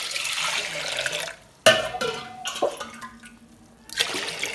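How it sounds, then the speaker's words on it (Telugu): Water pours into a pressure cooker holding a glass of washed lentils, a gushing stream at first, then a sharp metallic clank and quieter trickles before pouring resumes. "1 లీటర్ వాటర్ పోసుకోవాలి."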